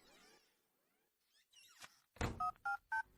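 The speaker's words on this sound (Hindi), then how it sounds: "फोन लगा रहा हूँ, देखता हूँ उसका आज का प्रोग्राम क्या है" Dialing tones from a mobile phone: after some handling noise, a quick run of three or four short electronic tone bursts sounds close and clear, with no talking.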